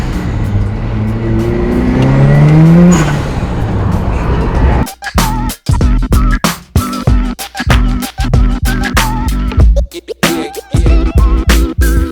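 A Mazda Miata fitted with an ISR turbo kit and HKS parts revs loudly up close, then drives off, its engine note rough and choppy with intermittent bursts.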